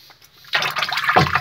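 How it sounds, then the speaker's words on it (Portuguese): Rusty pliers, freshly soaked in lemon juice, rinsed under running tap water: a brief splashing gush of water starts abruptly and continues steadily, close and fairly loud, with no talk over it. "Vamos passar ele na água aqui"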